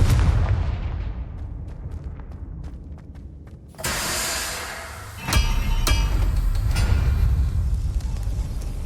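Confringo spell blasts in the Hogwarts Legacy video game: two loud explosive bursts land a second or so apart, each followed by a sustained roaring rumble over rumbling game noise.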